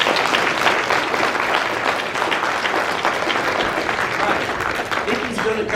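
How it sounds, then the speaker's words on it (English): A church congregation breaks into sustained applause, dense, fairly close clapping that stays loud and even throughout, with faint voices mixed in underneath. "Can we get a round of applause to just say all that?"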